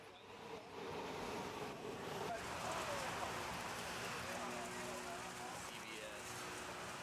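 Steady rain falls outdoors at a football protest march, a dense continuous hiss with a brief surge at the start, moderately close, with faint voices underneath.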